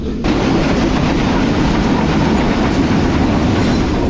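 The Karachi Express rolls along its rails in winter, a loud, steady rumble and clatter heard from inside a coach, filling the whole stretch without a break.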